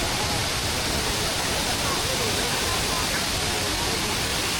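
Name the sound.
Tad Kuang Si waterfall rushing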